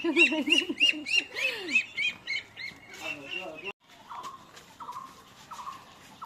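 Ducks being chased and caught let out loud, rapid squawks and honking calls in quick bursts. Fainter, evenly spaced quacks follow after a brief pause.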